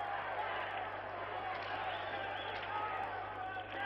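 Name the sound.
spectators applauding the American team at an Olympic game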